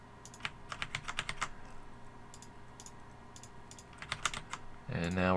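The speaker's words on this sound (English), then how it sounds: "Is me using the arrow keys to navigate through the design." Arrow keys on a computer keyboard click in quick runs and scattered single taps while moving through an embroidery design, soft and close, before a voice starts speaking at the very end.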